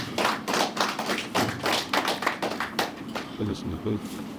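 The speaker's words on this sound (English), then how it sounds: "So let's thank them as well with a round of applause." A crowd at a school tournament launch claps in a burst of applause, dense and steady at first, then thinning out toward the end.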